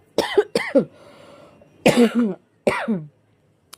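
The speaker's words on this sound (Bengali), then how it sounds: "সরি সরি হ্যাঁ কাশি হয়েছে খুব" Several harsh coughs in quick bursts from a person with a bad cough, close and loud, separated by short pauses.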